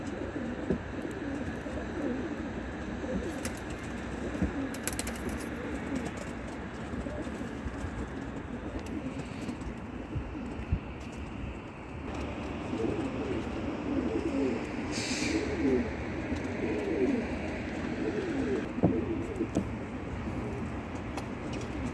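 Mardin tumbler pigeons coo softly against a busy outdoor background, the low calls faint and intermittent.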